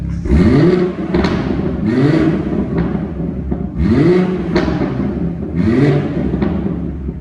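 A BMW 440i M Sport with M Performance power pack revs at idle in four quick blips, each engine note rising then falling with a burbling clatter, loud and close with no talking.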